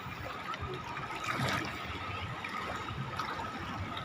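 Sea water laps and trickles steadily close by at Calatagan, Batangas, a continuous gentle wash with a slight swell midway through.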